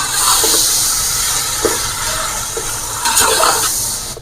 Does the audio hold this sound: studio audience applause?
no